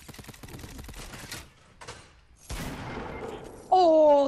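A sniper headshot in a first-person shooter video game lands as a single sharp, loud shot midway through, among scattered clicks and game noises, with a bright electronic tone sounding at the end.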